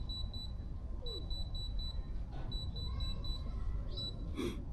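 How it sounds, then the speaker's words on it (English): Rapid high-pitched electronic beeps in repeated bursts of four or five, fairly faint over a low background rumble. "you hear that beeping?"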